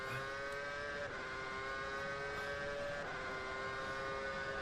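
F1 car engine in the rFactor 2 racing game, a steady high-pitched whine held at high revs with two brief dips as gears change, continuous and fairly faint with no talking.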